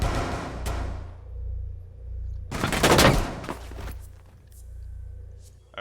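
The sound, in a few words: gunfire in an online shooter video game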